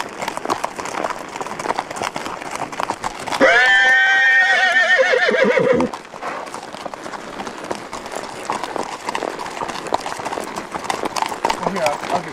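Horse hooves clip-clop in a steady, rapid rhythm close by. A loud whinny rises partway through, then the hoofbeats carry on.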